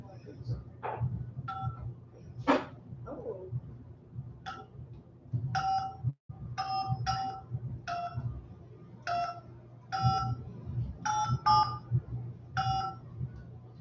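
A melody tapped out on touch-tone phone keypad tones, a run of short pitched beeps in an uneven rhythm of doubles and singles, heard over a low hum and murmuring voices.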